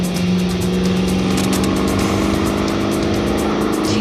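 A Corvette with over 1,000 horsepower accelerates hard, its engine roaring loud and steady at close range from the passenger seat, with a sustained drone and a rising rasp throughout.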